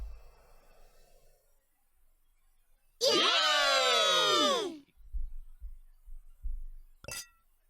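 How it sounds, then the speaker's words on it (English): Glasses clink together in a toast in the video game Corona Blossom, a bright ringing chime that sustains loudly for about two seconds before fading. A sharp second clink follows later amid low background sounds. "So everyone raises a glass and the evening gathering begins."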